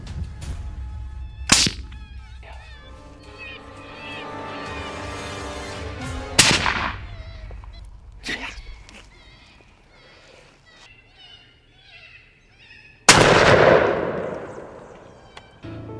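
Rifle shots ring out while hunting bobcat outdoors, a few sharp loud cracks spaced several seconds apart with echoing tails, the last one followed by a burst of noise, amid faint background sounds.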